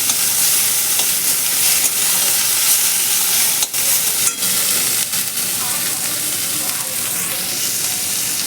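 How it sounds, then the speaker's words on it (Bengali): Garlic tempering sizzles steadily in hot oil as poppy seeds are sprinkled in and stirred, a continuous close frying hiss with a few brief scraping stirs. "রসুন ফোড়নে পোস্ত ছিটি দিলে ভালো লাগে"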